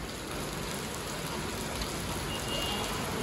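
Heavy rain pours steadily in Goa, a dense, even hiss of falling water that stays constant throughout with no pauses.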